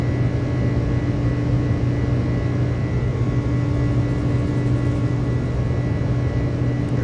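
Jet engines of an iniBuilds Airbus A300 at takeoff power in Microsoft Flight Simulator 2024, a steady loud roar with a low hum and whining tones, unbroken and sustained.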